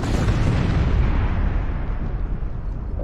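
Starship weapons fire in the virtual-reality game Star Trek: Bridge Crew, heard as one loud, sustained explosive roar of rumbling blasts that gradually fades over a few seconds, with no talk.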